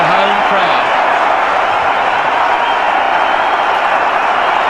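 A home crowd cheers at an India-Pakistan cricket match in Lahore, a steady, far-off stadium roar that holds at an even level throughout.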